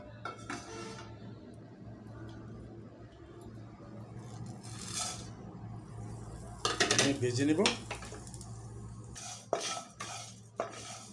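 A spoon stirs and scrapes dry whole spices, including coriander, cardamom, cinnamon, mace, nutmeg, black pepper, cloves, cumin, dried chillies and black cardamom, as they fry in a pan for mutton kala bhuna, with clinks and soft rattling over a low steady hum.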